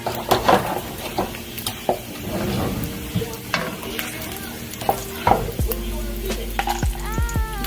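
Bacon sizzles and fries in a pan for a Mexican dinner, with a utensil repeatedly scraping and stirring against the metal, close and continuous under a steady crackle.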